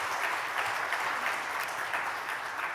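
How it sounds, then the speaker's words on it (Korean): Congregation clapping in a church during a revival meeting, a dense, even wash of many hands applauding steadily throughout, moderately distant with no talk over it. "우리 박수 한번 해주세요"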